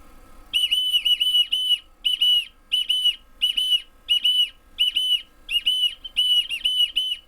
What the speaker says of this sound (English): Here it comes whistling.